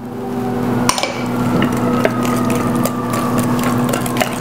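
Vanilla extract whisked into cake batter, a loud continuous wet churning and scraping in a bowl with occasional sharper clinks of the whisk against the side, close up with no talking.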